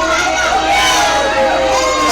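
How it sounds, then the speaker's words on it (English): Packed crowd at a live wrestling show, a steady roar of voices and murmuring filling a large hall, continuous and loud throughout. "an overpacked crowd is in this house"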